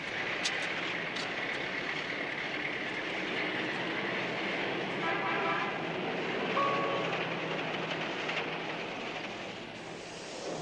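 A train rumbles along steadily with a continuous rolling roar, a few faint clicks and a brief high squeal partway through.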